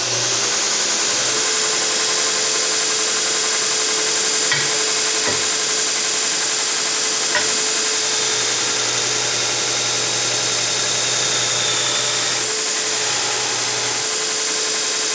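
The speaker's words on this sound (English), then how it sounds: "This is 1/4-inch mild steel. Not hardened at all, but man, it just mows right through it." A TW-90 belt grinder grinding 1/4-inch mild steel, a loud continuous abrasive roar with a steady motor hum that shifts slightly as pressure changes, close and alone for about fifteen seconds.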